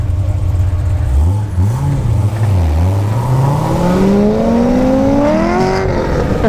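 A Corvette Z06 427 engine revs and accelerates hard, its pitch climbing steadily upward, loud and close with wind noise underneath.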